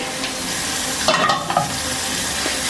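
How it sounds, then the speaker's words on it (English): Bread fries in hot oil in a pan, a steady close sizzle with a few brief scraping clatters partway through. "we're going to heat some oil and then we're going to fry our bread"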